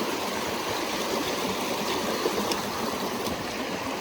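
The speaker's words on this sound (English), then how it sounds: "The creek's me way out, and it's going up quite a lot." A rain-swollen creek running high through wet bush, a steady broad rush of flowing water close by, constant and loud with no voices.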